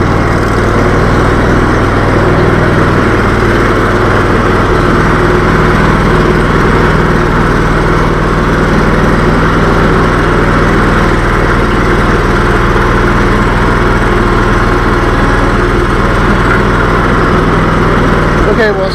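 Engine of a 2-wheel drive Legacy XL compact tractor running loud and close as it makes a tight turn, a steady droning rumble with no break throughout.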